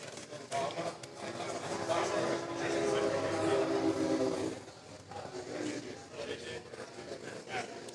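A train rolls past close by at an outdoor summer event, a broad rumbling wash with horn-like tones that swells over the first four seconds, then eases off, while people talk throughout.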